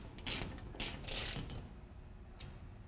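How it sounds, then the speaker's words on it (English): Quick bursts of ratchet clicking as a 7/16 socket drives a bolt into a wall anchor while a wall cabinet is mounted, several short close clattering runs separated by pauses. "using a 7/16 socket, mount that into the wall"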